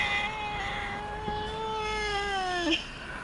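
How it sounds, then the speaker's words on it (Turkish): A stray Van cat meows in a long, drawn-out wail that rises and falls, close and fairly loud, with a sharper bright peak near the end; no talking. "Burada bir tane daha kedi var."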